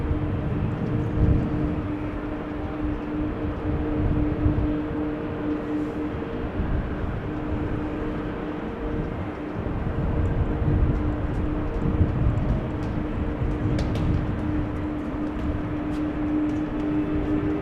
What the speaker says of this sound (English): There it is getting pushed back. The fake A330-300, which will be going to Mumbai.